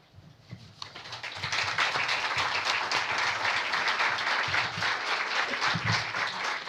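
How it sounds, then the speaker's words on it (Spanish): Audience applause after a presentation at a women's leadership event: clapping builds within the first second into sustained, dense applause that holds steady to the end, with faint voices underneath. "Démosle un aplauso, por favor"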